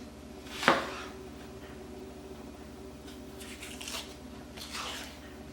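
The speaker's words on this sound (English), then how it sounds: "I'll dice up an onion" Knife chopping an onion on a cutting board in a home kitchen while chicken boils on the stove: one crisp, louder cut followed by a few softer, scattered slices over a steady low background hum, with no talking.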